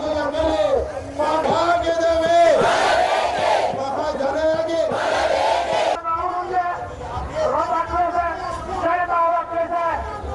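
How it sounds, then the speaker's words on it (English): A large crowd of anti-government protesters chants and shouts in loud, rhythmic waves of massed voices, sustained and close throughout. "A large crowd have gathered here today as well, expressing their dissent towards the government and the President."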